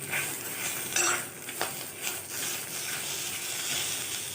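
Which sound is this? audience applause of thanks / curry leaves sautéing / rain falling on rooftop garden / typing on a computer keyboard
curry leaves sautéing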